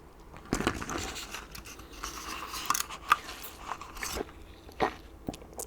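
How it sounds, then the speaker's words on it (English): Ice cubes being chewed and crunched close to the mic, with a series of sharp, irregular bites and crackling crunches spread across the clip. "Who else loves chewing on ice cubes?"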